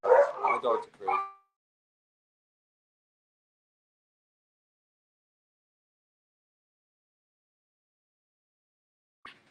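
Dogs bark in a short, loud flurry of several quick barks at the start, then fall silent, with one faint yelp right at the end.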